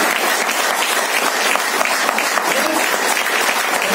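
Loud, dense audience applause at an Indian business event honouring company ambassadors, a continuous roar of many clapping hands filling the room, with a voice faintly present beneath it.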